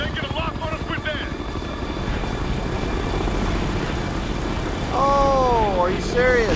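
Hostile helicopters in the video game Ghost Recon: Future Soldier, a loud, steady rotor drone filling the scene with dense battle noise, while a few whooping, wavering tones rise over it toward the end.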